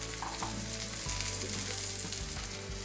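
Onion and tomato roasting with a couple of garlic cloves in a covered pan over a low gas flame, giving a steady close sizzle and crackle with faint clinks of cookware throughout.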